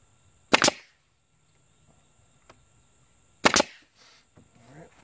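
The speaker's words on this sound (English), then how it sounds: "Make sure you don't shoot a nail through your hand." A nail gun fires nails into wood during seat refinishing, with two sharp, close shots about three seconds apart and quiet handling noises between them.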